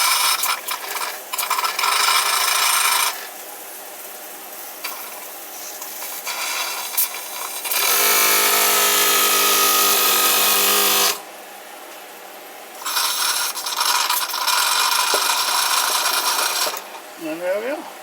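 A toy steam crane runs, lifting an adjustable spanner, with loud bursts of hissing and mechanical whirring that start and stop in sections, alternating with quieter rubbing and clicking.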